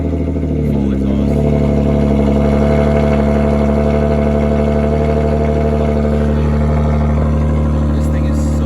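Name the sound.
Audi SQ5 engine running loud with full exhaust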